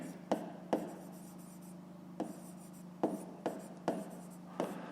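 A pen writes in a notebook during a fifth-grade math exercise, with quiet scratchy strokes broken by several distinct taps as the pen touches down, close and soft, with no talking.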